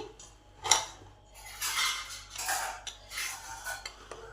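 Pressure cooker being opened, a sharp metallic clink followed by several rattling, scraping metal bursts as the ring and lid are handled, close and intermittent.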